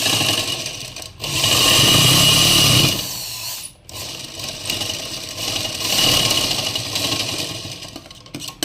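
A sewing machine stitches a shirt sleeve cuff in several loud bursts of steady whirring, broken by brief pauses and a quiet stretch in the middle.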